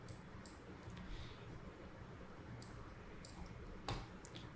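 Computer mouse clicks, a few sharp, close, quiet ticks scattered irregularly over a faint background hiss.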